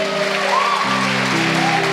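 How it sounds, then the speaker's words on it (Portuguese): Congregation applauding in a church, steady dense clapping throughout with a sustained musical tone layered underneath. "aplauda o Senhor"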